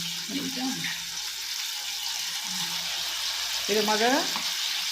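Chicken leg pieces frying in oil in a pan, a constant hiss of sizzling with a few faint voice-like sounds in the background.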